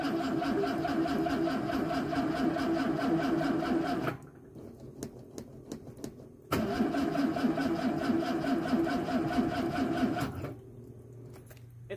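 A 1981 Ford Mustang with a drained battery cranks over and over without catching, in two long bursts of fast, rhythmic, labored starter churning separated by a short pause, close to the microphone.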